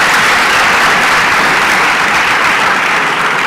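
Students and teachers at a national science and technology exhibition burst into sustained, loud applause, a dense steady wash of clapping from a large crowd with no voices standing out.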